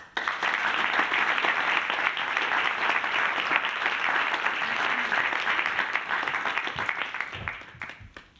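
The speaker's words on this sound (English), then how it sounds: "let's give them a huge round of applause, make some noise" A conference audience gives graduates a long, sustained round of dense applause, loud and even throughout before tapering off at the end.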